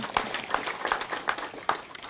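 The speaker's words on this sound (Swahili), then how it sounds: "Tupigie Governor makofi." Crowd applause for the governor at the launch of a pediatric eye care center at Sabatia Eye Hospital in Vihiga County, a scattered, moderate patter of clapping with a few louder claps standing out.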